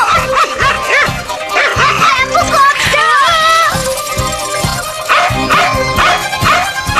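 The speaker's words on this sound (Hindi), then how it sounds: "वो डॉगी ही है, भाव भाव कर रहा है।" A cartoon dog from the Hindi dub of Doraemon barks and yips repeatedly in a bouncy rhythm, loud and close, over a busy musical soundtrack with other cartoon sound effects.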